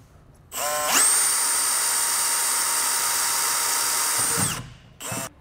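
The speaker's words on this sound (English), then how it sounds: "we're going to take a 7/64 drill bit and drill ourselves some pilot holes" A power drill with a 7/64 bit boring pilot holes whines up to a steady high-pitched spin for several seconds, winds down, then gives one short burst.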